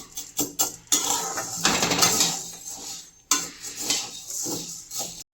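Sago pearls being dry-roasted in a pan and stirred with a metal spoon, making continuous close clattering and scraping with rattling grains and repeated stirring strokes, without speech.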